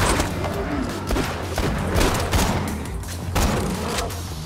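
Rapid gunfire crackles through a Borderlands 2 firefight, dense overlapping shots and booms with game effects underneath, loud and continuous across the short stretch.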